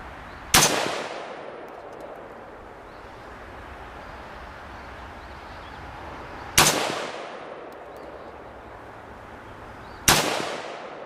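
Three sharp, loud gunshots fired on an outdoor shooting range, spaced several seconds apart, each with a long echoing decay over a quiet background.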